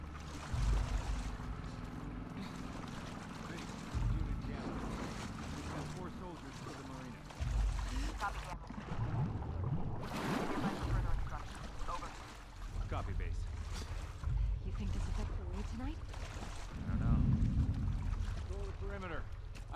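A boat engine drones steadily in The Last of Us Part II, rumbling low under rushing wind and splashing water, with people talking over it throughout.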